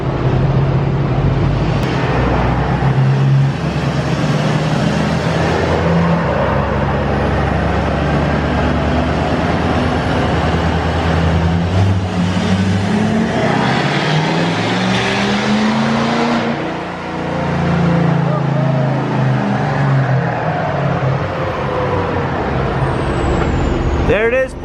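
A Cobra-swapped diesel engine roars on a dyno, loud and continuous as the revs climb and fall with a sustained rumble. A voice speaks over it.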